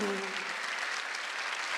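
A church congregation claps together during a Sunday worship service, a dense burst of applause at moderate distance that runs steadily for under two seconds.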